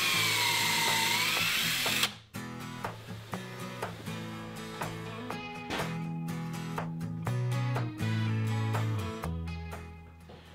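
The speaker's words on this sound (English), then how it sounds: "I just finished marking out where I'll need to drill and countersink holes" Power drill boring countersink holes into a wooden TV lift cabinet frame, a steady whine after a brief quiet lead-in, with repeated short bursts and pauses as each hole is drilled, close and alone.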